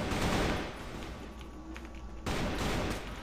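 Gunfire in the first-person shooter CrossFire, dense bursts of shots filling the clip with a brief dip in the middle before firing resumes, loud and close.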